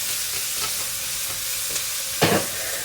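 Chopped onion and garlic sizzle and fry steadily in a hot pan, with a few stirring scrapes and a louder stir near the end; no talking.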